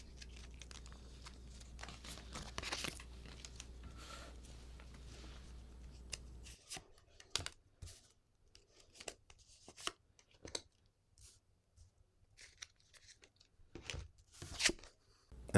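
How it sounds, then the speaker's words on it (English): Tarot cards are shuffled by hand in a series of crisp, close riffling and slapping bursts, irregular in rhythm, with quiet gaps between them and no voices. "And I will shuffle the cards"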